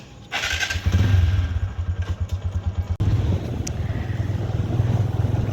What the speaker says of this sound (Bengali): বাইকে উঠবো, চলো।